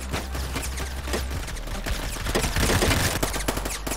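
Rapid automatic gunfire in the Phantom Forces video game, shot through a wall. It sounds as dense, continuous bursts of crackling shots at steady loudness, with no talking.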